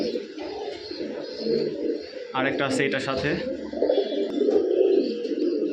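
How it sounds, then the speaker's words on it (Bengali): A pair of blue Kamagar high flyer pigeons coo steadily close by, while someone speaks briefly over the cooing partway through. "একজোড়া নীলা কামাগার হাই ফ্লায়ার কবুতর"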